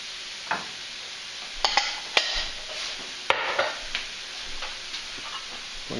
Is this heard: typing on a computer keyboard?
no